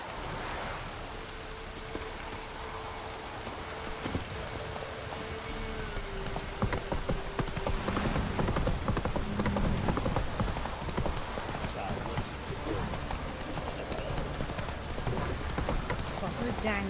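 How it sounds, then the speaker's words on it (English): Heavy rain pours down steadily in The Witcher video game, a dense hiss of drops on surfaces that swells slightly midway and continues throughout, with a faint low tone and a few soft thumps underneath. "Proper downpour this is."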